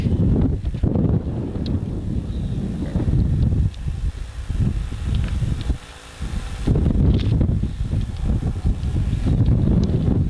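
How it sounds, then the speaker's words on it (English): Strong cold wind buffets the microphone at an outdoor rugby match in loud, continuous rumbling gusts, briefly easing midway before roaring back. "Still windy, still cold."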